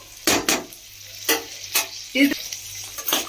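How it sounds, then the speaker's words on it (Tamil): Tomatoes sautéing in a pan for a side dish, with a spatula scraping and stirring in short strokes over a light sizzle, a few distinct stirs close by. "இது எல்லாமே நல்லா வதங்கட்டும்."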